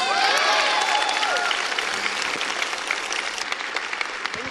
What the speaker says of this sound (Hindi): ये सब आपके लिए तालियां बजाएं कि yes you deserve these claps